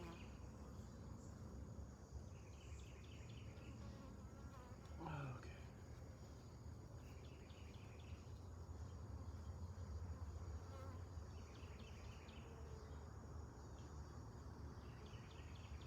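Bees buzz steadily around an opened backyard beehive while its wax comb is broken apart for repair, a dense, constant insect drone close to the ear with a brief louder pass of one bee.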